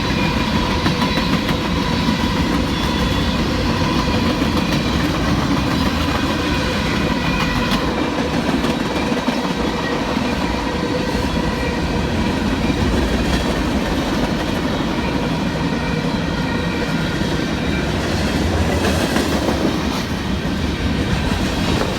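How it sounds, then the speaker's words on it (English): An eastbound Union Pacific freight train barrels through the Highway K crossing in central Missouri, a steady loud rumble with rhythmic wheel clatter over the rails and faint squeals, sustained close by throughout with no voices. "an eastbound freight came barreling through across the Highway K crossing"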